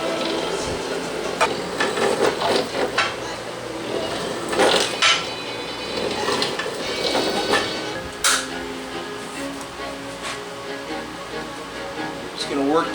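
Metallic clinks and knocks come at irregular intervals from a tool working a rubber bushing out of a Zündapp Bella rear shock, with scraping and clattering close by and no clear speech.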